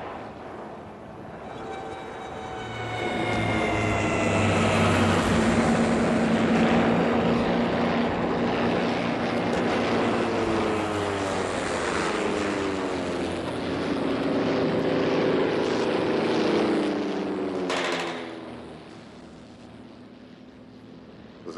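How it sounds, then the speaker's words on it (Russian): In a 1968 Soviet war film, propeller fighter aircraft fly overhead, the engine drone swelling from faint to loud and sustained, then fading away as the planes pass, with no talk over it. "Истребители наши."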